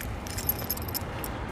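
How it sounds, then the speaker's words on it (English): A set of keys jingles and rattles in short bursts close by, bright metallic clinks over a steady low rumble of background noise. "I'm trying to get my keys here."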